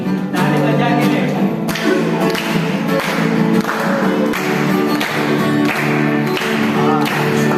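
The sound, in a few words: congregation clapping hands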